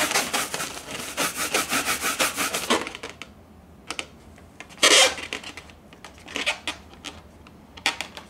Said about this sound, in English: create some static, and you do that by, and I've seen this already, rubbing it on your hat